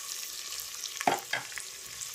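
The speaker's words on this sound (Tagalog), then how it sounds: "Ipa-brown natin ang sibuyas bago natin ilagay ang balon-balunan." Onion browns in a frying pan, a faint steady sizzle broken by a couple of brief scraping stirs near the middle, close but quiet, with no voices.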